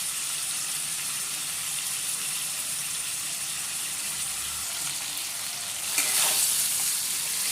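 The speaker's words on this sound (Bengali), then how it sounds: "এখন চিকেনগুলো আমার ভাজা হয়ে গেছে।" Chicken pieces fry in hot oil for a Madras curry, a steady soft sizzle and crackle throughout, with a brief louder spatter near the end.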